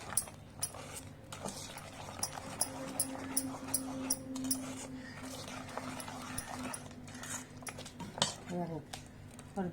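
Cupcake batter thinned with milk to a pourable consistency is stirred in a bowl. A spoon clinks and scrapes against the sides in quiet, irregular taps, with soft scraping between them, all at a low level.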